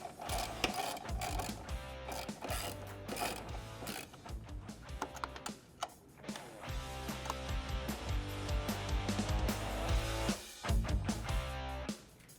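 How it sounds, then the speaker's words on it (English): A 10mm socket wrench ratchets rapidly while tightening nuts on a Jeep JL Bestop Trektop Ultra soft top, producing dense, close mechanical clicking in bursts with brief pauses and no talking. "We're going to tighten these nuts up using a 10mm socket or a 10mm wrench"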